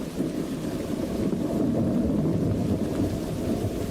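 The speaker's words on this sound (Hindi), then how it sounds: "अरे, ये बारिश कितनी तेज हो रही है।" Heavy rain pours down in a dense, continuous rush with a deep rumbling undertone like distant thunder or wind. The sound is loud and steady throughout, with no voices.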